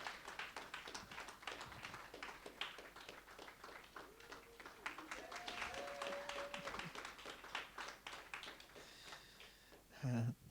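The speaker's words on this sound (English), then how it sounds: "give a round of applause for Isioma as she takes her seat" An audience at a fashion industry panel talk applauds as a panel speaker takes her seat; the clapping is soft and distant, a busy patter of many hands running throughout with some faint voices.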